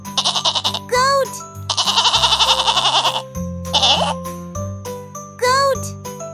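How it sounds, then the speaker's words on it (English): Goat bleats from a toddler farm-animals lesson, a few short wavering cries separated by bursts of tinkly music and a child-like voice, loud and close. "Goat."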